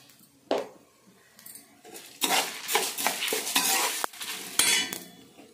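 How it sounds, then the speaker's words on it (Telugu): Dried red chillies are stirred and roasted in a pan, with scraping spatula strokes and a dry rattling crackle that comes in bursts after a quieter start, close and fairly loud, no talk. "కానీ ఇలా వేపేసుకోవచ్చు, ఏం కాదు, ఓపికగా వేపుకోవాలి."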